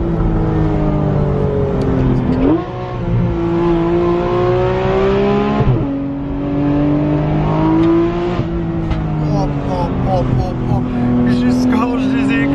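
A Porsche 911 GT3 RS on a small road, its engine revving hard and loud and close, climbing in pitch with sharp dips at each gear shift.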